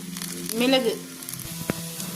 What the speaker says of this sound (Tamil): வெங்காயம் நல்லா வதங்கிடுச்சு. இப்போ பூண்டு